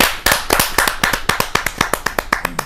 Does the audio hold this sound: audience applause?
yes